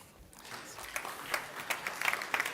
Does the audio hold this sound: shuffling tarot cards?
no